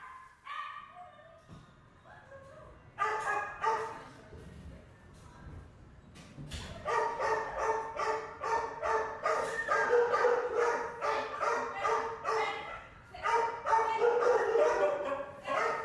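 Many dogs bark, yelp and whine together, sparse at first and then building into a dense, continuous chorus of crying and barking.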